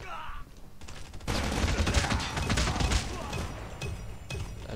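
Call of Duty Mobile gunfire breaks out after a quiet opening, with rapid automatic bursts and overlapping shots in a dense, sustained volley of mid-level loudness.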